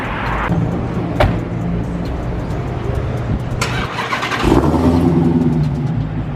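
Dodge Demon engine running and revving nearby, a loud steady rumble with a couple of sharp blips and a heavier surge of revs near the end, heard alone.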